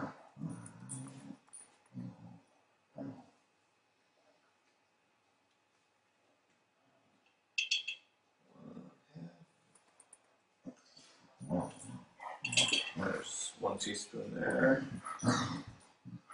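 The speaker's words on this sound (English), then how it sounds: "That sound that you hear in the background is my dog." A dog growling and making clicking noises in a home kitchen, intermittent and fairly close, heard alongside a person talking.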